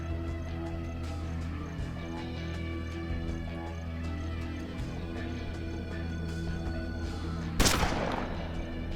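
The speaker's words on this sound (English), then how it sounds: "Let's see if we can do this cone shot here." A single shotgun cone blast in the western tactics game Hard West cracks out sharply near the end, rising above a steady droning music bed.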